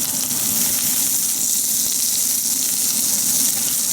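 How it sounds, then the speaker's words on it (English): Steady, loud sizzling of prawns frying in a hot pan, a continuous crackling hiss with no talking. "Prawns are frying."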